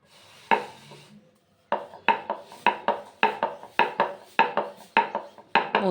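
A paratha dough round dusted with dry flour is rolled out with a rolling pin, giving a steady run of about a dozen rhythmic wooden strokes after a brief opening pass and a short pause.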